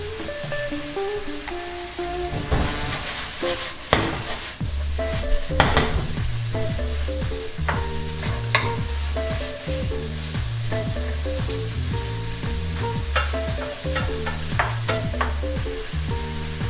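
Chicken and red peppers stir-fry in a pan for a keto dish, a steady close sizzle with frequent clanks and scrapes of stirring throughout, while tonal background music plays underneath.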